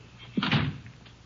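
Old-time radio western drama: a single door swings open with a dull thump and creak over steady background hiss, close and brief, no talk.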